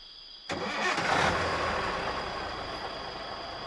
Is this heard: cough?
no